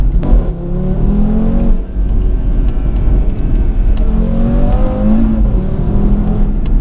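A 2018 Audi RS3 rated at 510 bhp pulling away hard, heard as a loud, sustained engine drone with rising harmonics, a brief dip and then climbing again, close and constant with no talk.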